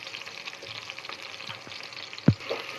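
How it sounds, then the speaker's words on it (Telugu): Ginger paste frying in ghee in a pan, a soft, steady sizzle with light stirring and one sharper scrape near the end, close but fairly quiet, with no talking. "అల్లం పేస్ట్ అయితే ఫ్రై అయింది."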